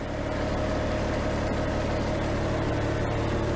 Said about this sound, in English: Underneath you can hear the engine running with the engine panels